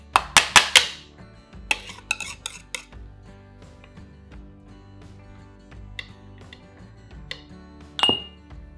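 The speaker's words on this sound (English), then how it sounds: "we are gonna just ladle this into our jars with 1/4 inch of headspace" A metal spoon clinks sharply against glass jars while mango jalapeño jam is ladled in, with a quick cluster of bright taps, then scattered softer clinks and scrapes under a low background hum.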